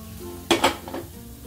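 Hot oil poured into semolina dough for rava sanjori sets off a brief sizzling crackle, two sharp bursts close together followed by a softer fizz, close by with no talking.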